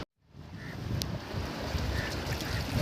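Sea waves wash onto a rocky Guhagar shore on the Konkan coast at low tide, a steady broad rush of surf blended with wind noise on the microphone, continuous and fairly soft after a brief silent start.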